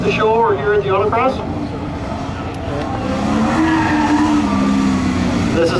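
A big Buick competition car runs an autocross course at a car show, its tires squealing and skidding loudly in long wavering whines over a steady engine roar close by.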